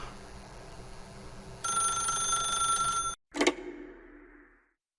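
A telephone rings in The Stanley Parable, a sustained electronic bell tone over faint room hum that cuts off abruptly, followed by a single sharp click and a short fading resonance.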